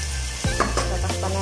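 Ginger, garlic, onion and tomato are sautéed in a pan for a clam dish, a close, bright frying hiss with a brief stirring scrape partway through.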